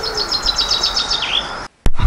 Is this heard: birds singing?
yes